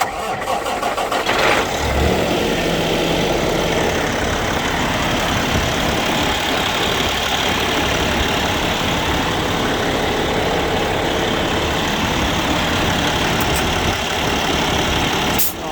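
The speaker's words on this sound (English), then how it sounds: "We're gonna crank this motor." A used semi truck's diesel engine cranks and catches, then settles into a steady, loud rumbling idle that continues throughout, with brief talk near the start.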